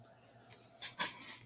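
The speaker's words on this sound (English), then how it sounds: "My dog's snoring." A pet dog snoring nearby indoors, giving a few soft, breathy wheezing snorts in quick succession that rise briefly before fading, with no talking.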